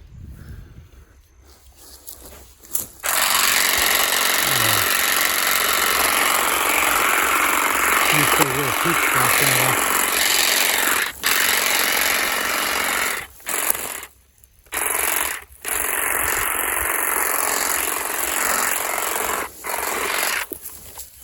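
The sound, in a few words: Saker cordless hedge trimmer and grass shears cutting grass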